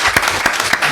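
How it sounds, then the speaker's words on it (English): A small group claps briefly for a translator at a football press conference, a short burst of a few sharp, closely spaced hand claps. "I think she deserves a clap"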